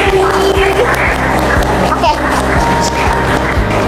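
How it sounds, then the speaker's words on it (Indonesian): Audience at a milenial talk event in a Cibitung cafe applauding for Bu Fitri: steady, dense clapping from a room crowd over a rhythmic music bed with a thumping beat throughout. "Boleh dong tepuk tangannya buat Bu Fitri"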